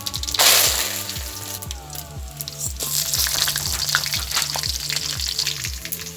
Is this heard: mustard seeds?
yes